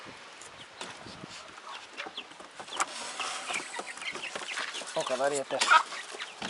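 White guinea fowl and chickens cluck and chatter close by while being fed wheat, a steady busy flock rising in intensity, with someone speaking briefly near the end.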